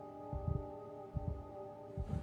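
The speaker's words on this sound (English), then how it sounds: "Heartbeat going up just because I heard things." A slow heartbeat thumps in steady double pulses, three beats over a constant low electronic hum, close and muffled, from the video game SOMA.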